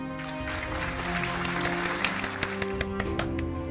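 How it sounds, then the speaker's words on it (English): Applause rises from a crowd in a visual novel video game, a steady bed of clapping laid under sustained musical tones, with a few sharper claps standing out near the end. "The crowd breaks into applause."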